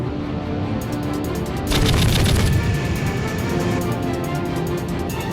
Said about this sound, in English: Give warning burst with cannon.